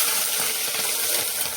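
Chillies, mustard seeds and cumin crackle and sizzle in hot oil while tempering samosa filling, giving a steady bright hiss without a break and no talking.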